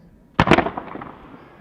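Fireworks at a night display: a sharp double burst of bangs followed by a fading crackling tail, loud and fairly close, then trailing off into ambient noise.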